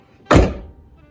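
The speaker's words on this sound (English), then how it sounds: "and then I'm gonna close the door." A Mazda Miata car door shuts with a single solid, close thunk, ringing out briefly after a sharp onset.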